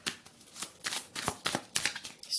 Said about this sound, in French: Alors, je tire une dernière carte.